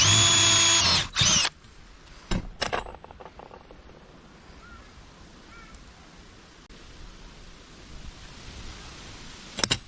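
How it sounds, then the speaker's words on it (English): A power drill with a number 7 bit bores out a socket during boat repairs, whining loudly for about a second and a half, then cuts out, leaving a few sharp clunks and a quiet low rumble. "I'm gonna bore it out with a number 7 drill"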